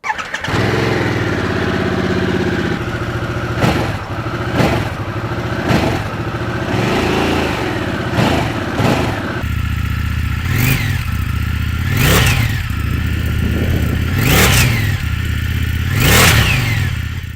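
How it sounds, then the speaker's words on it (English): A Harley-Davidson Sportster S or Indian FTR Sport motorcycle with stock exhaust starts and idles, then revs sharply several times in a rhythmic series of bursts, loud and close with no talking. "Now let's also have a listen to the stock exhausts."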